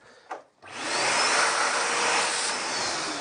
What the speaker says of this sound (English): I've got a little cheap vacuum cleaner down here.